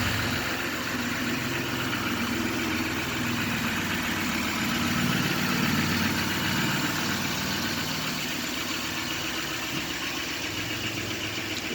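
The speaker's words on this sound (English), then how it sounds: "2014 Duramax diesel." A 2014 Chevy Duramax diesel truck with the Z71 package idles steadily, a constant low diesel clatter and hum heard up close with no other sounds.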